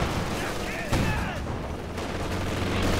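An aircraft strafing run in Company of Heroes 2 unleashes a dense burst of rapid gunfire with booming impacts, heard loud and continuous amid a busy battle soundscape.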